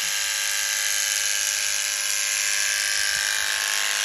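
Electric clippers buzz steadily while clipping the coat of a miniature Shetland pony, a loud, close, unbroken high-pitched whine with no pauses and no voices.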